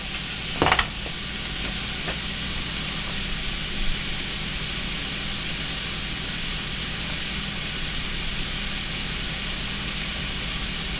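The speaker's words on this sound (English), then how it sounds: "I'm gonna stir this around a little bit, try to get my seasonings in here." Vegetable soup with garlic powder and other seasonings is stirred in a pot over a steady hiss and sizzle, with a sharp knock near the start and a few faint scrapes.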